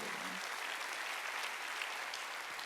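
Congregation clapping during a Sunday worship service in a Korean church, a continuous even patter of many hands, fairly distant and soft, with a brief murmur of voice near the start.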